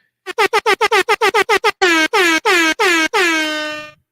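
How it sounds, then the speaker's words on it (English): Blaring air horn sound effect: a rapid burst of about a dozen short blasts, then four longer honks, the last one trailing off. "Air horns for the homie."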